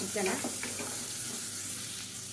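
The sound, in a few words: bone-in chicken being sautéed in a pan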